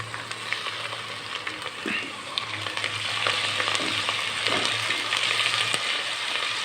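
Ginger garlic paste fries in ghee in a pan, a steady close sizzle with light stirring scrapes and no talk.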